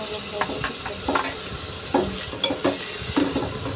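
Chopped tomatoes sizzling with onions in a pan for a gongura chicken curry, a steady fry under repeated scraping stirs of a spoon, several louder clusters of mixing, no speech.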